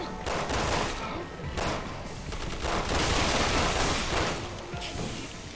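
Dense, sustained video game gunfire in repeated rapid bursts, loud and continuous for several seconds, with players talking over it.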